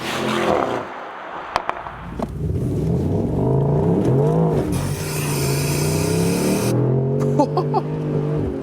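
A 2022 Mercedes-AMG SL 63 with all-wheel drive accelerates hard in Sport Plus mode, its engine climbing through revs with a gearshift and a second pull, loud and close, with brief tire and wind noise.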